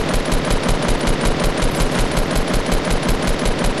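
Video game gunfire rattles off in a rapid, evenly spaced automatic burst, loud and continuous for several seconds with no voices.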